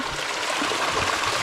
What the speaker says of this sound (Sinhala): මේ පොඩ්ඩක් වතුර සද්දේ හොයාගෙන එන්න ඕනේ